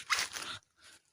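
A santol fruit is bitten into with a crisp, close crunch, followed after a short pause by a second, softer crunching chew.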